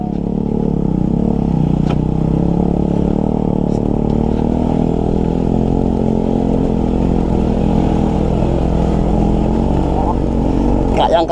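A Suzuki motorcycle carrying two riders climbs a steep uphill road, its engine droning loud and steady throughout with constant revving and a faint clatter, close and continuous.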